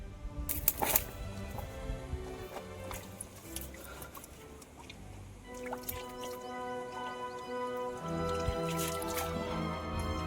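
Cold water trickling and dripping from small seeps at a mountain spring near a waterfall, a close, continuous patter of drips and gurgles with no talking.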